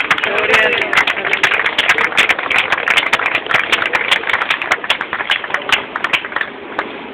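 A church congregation claps steadily for the Lord during a Spanish-language service, a dense, loud stream of hand claps with rhythmic accents and a sustained crowd murmur beneath.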